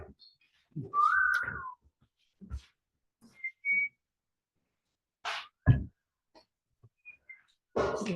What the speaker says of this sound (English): What the hell's whistling?